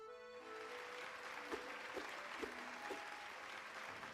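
Quiet applause from a crowd in Hollow Knight: Pale Court, a steady patter of clapping over a soft musical tone with a few faint rhythmic accents.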